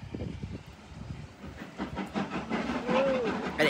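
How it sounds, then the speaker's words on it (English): Steam locomotive 45627 Sierra Leone passes Saltash, a steady hiss and rumble that builds toward the end, with a brief whistle-like tone near the close. "That's a good steam train."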